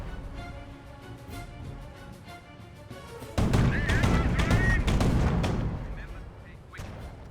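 Gunfire and blasts hit an anti-tank gun in Company of Heroes, a strategy game with German Panzer Elite and US forces; sharp shots give way to a loud, dense barrage in the middle, with a voice speaking in places.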